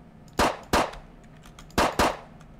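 Four sharp Colt 1902 pistol shots in a video game, fired as two quick pairs, each loud crack ringing off with a metallic tail over a low background hum.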